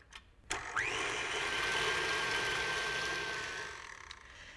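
An electric mixer creams cake batter for a rhubarb custard teacake, starting with a click and spinning up into a steady high-pitched whir that holds for a few seconds before winding down.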